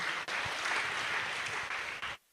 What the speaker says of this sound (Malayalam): മനസ്സിലായാലും മാത്രം കൈയടിച്ച് ദൈവത്തെ ഒന്ന് മഹത്വപ്പെടുത്തിക്കുക